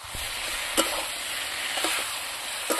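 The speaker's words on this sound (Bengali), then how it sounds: "এখন আমি আর 5 মিনিট এরকম করে কষিয়ে নেব।" Bottle gourd and dried fish curry is stir-fried in a pan, a steady close sizzle broken by a few scraping stirs, with no voices.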